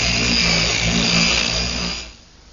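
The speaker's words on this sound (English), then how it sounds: "a quick run over the edge with the sander" Power sander running steadily over the edge of a plywood panel, a loud continuous whine and buzz lasting about two seconds before winding down and cutting off.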